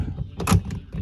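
The entry door of a 2018 Thor Freedom Elite motorhome opens with a short sharp latch clunk and rattle, close and brief, with no talk during it.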